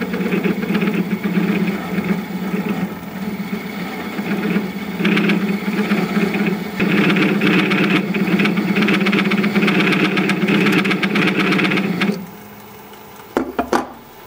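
A wood lathe turning a ginkgo biloba salt cellar at about 500 RPM gives a steady, loud mechanical hum with a rattling drone, which cuts off near the end, followed by a few brief knocks.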